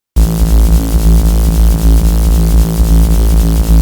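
Two bass layers of a drum and bass remix play together, a steady heavy drone fused with a pulsing, gritty rhythmic part, loud and continuous, alone without voices.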